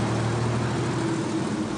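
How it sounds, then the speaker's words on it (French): A Porsche 911 Targa sports car engine hums with a steady low drone, moderately loud and continuous, with no voices. "Le bruit de cette voiture, il est génial"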